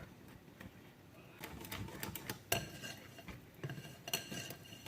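A tablespoon scooping unsweetened cocoa powder from a container into a bowl for chocolate cupcakes, light metallic clinks and scrapes close by, quiet and irregular, with a sharper tap midway.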